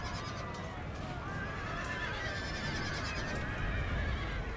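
Light horse cavalry charging in the video game Napoleon Total War, a dense wash of horses whinnying and hooves drumming over battle noise, continuous and fairly loud throughout.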